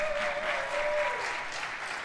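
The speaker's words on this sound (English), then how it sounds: "Let's give them a round of applause just for creating work." An audience at a live Bushwick Book Club stage show claps in a dense, steady burst of applause. A thin whistle-like tone rings through the first second.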